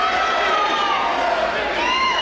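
A wrestling crowd of over a thousand fans at a Limitless Wrestling show in Portland, Maine fills the room with loud, steady cheering, and chanting voices rise through the dense roar.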